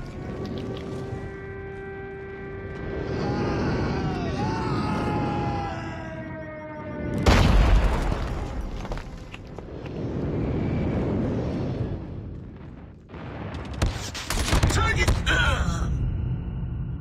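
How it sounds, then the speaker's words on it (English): Call of Duty Mobile multiplayer airstrike: a jet roars overhead with a falling whine, then heavy booming explosions rumble in waves and end in sharp crackling blasts, loud and close, with game voice lines over parts of it. "airstrike incoming."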